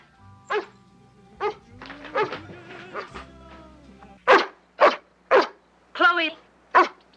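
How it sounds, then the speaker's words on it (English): A dog barks in a 1969 film scene, several sharp, loud barks in a steady run toward the end after earlier mixed sounds and voices, close by. "Whose dog is that?"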